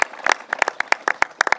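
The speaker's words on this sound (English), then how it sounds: "let's give them a round of applause" A small group clapping in a short, sparse round of applause for officials at a government water-quality announcement, with uneven individual claps close by and no talk.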